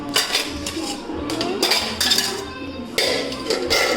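A spoon knocks and clinks against dishes in quick, close, uneven bursts, with bright metallic taps repeating over a few seconds.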